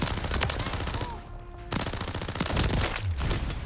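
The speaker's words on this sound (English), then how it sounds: "This is a pistol, keep in mind." Rapid pistol fire from a RAM 9 loadout in Modern Warfare 3, loud bursts of repeated shots with a brief pause midway, then more fast gunfire.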